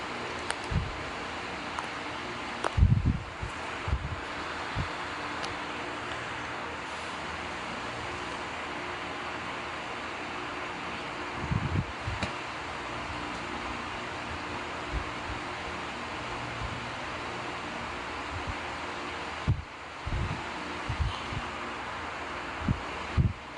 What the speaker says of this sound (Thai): แม่เสียงอะไรครับ พัดลมค่ะ